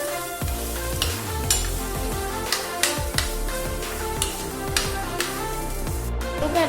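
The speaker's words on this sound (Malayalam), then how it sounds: "നമുക്ക് അതിലേക്ക് നല്ല പൊടി പൊടിയായി അരിഞ്ഞ 3 വലിയ സവാള ഇട്ട് കൊടുക്കാം." Three large, finely chopped onions sizzle loudly in hot oil for an egg recipe, with a continuous frying hiss and repeated scraping stirs of a spoon in the pan at a steady rhythm.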